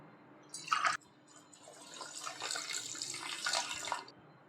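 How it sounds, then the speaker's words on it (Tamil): Half a tumbler of water poured into sugar in a vessel for laddu syrup: a short splash, then a steady, moderately loud stream of pouring water lasting a few seconds before stopping. "இப்போ இதை வந்துட்டு ஒரு பாத்திரத்தில் சேர்த்துட்டு அரை டம்ளர் அளவு தண்ணி சேர்த்துக்கலாம்"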